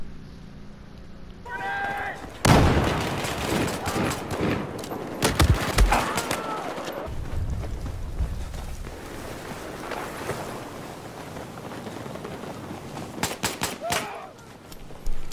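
Sharp pistol shots from a 1911 handgun in Battlefield 4 crack out in short bursts, with clusters near the start, in the middle and toward the end, over busy game noise and a voice at times.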